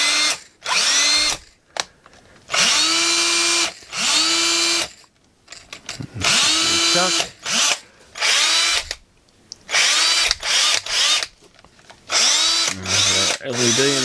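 A Ridgid battery drill under switch repair whines loudly in repeated bursts of a few seconds each, rising as the motor spins up and cutting off abruptly between runs, with brief gaps and handling noise.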